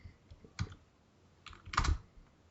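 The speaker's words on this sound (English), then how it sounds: "let's type it in" Brief bursts of keys tapped on a computer keyboard, two quick clusters of clicky keystrokes close up in a quiet room.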